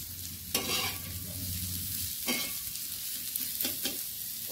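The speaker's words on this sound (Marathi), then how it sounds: "हे शिजवून पिळून घेतलेलं केळफूल मी आता टाकतीये इथं" Cooked, squeezed banana flower dropped onto a hot tawa with mustard seeds, cumin, onion, chilli, turmeric and salt, giving a steady close sizzle with a few scraping stirs.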